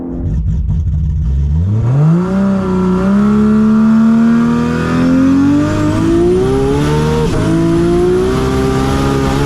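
A 1000+ hp Nissan GT-R race car makes a pass on a runway at a drag event, its loud engine revving up through the gears in a long rising roar close by, with no talk.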